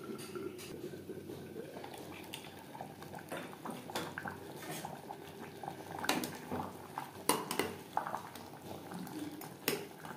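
Mutton and potato curry cooking in a covered pot over a medium gas flame, a quiet bubbling simmer broken by sporadic sharp clinks and taps of metal against the pot.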